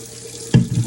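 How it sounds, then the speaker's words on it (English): Water poured from a tap into a shot glass, with a faint background hiss followed by a sudden close splash and a brief gurgling fill. "water in the shot glass, apparently 2 shot glasses, and then a cup."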